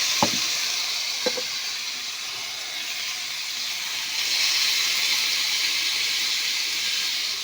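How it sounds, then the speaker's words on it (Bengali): Water is poured into spices frying in a pan, setting off a loud, steady sizzling hiss that lasts throughout. A couple of brief clinks sound near the start, with no talking. "পরিমাণ মতো জল দিয়ে দিলাম।"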